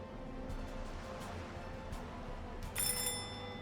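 A doorbell rings in the point-and-click video game Deponia. The bright electronic chime comes late and fairly loud over a low steady game ambience, with a few faint clicks earlier.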